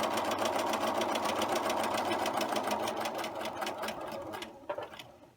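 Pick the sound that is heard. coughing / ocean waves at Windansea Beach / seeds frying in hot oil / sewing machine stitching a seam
sewing machine stitching a seam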